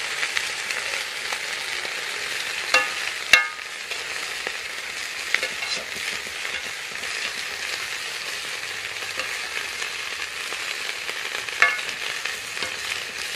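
Mustard greens stir-fried in a hot pan with a steady, close, loud sizzle, broken by occasional sharp clicks and scrapes of a utensil stirring, with no talking.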